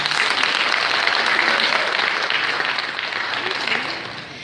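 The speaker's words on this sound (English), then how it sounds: "So give you all a round of applause." Applause from the audience at a summer nursing pinning ceremony, a dense, steady wash of clapping that holds loud for about four seconds, then begins to thin and fade.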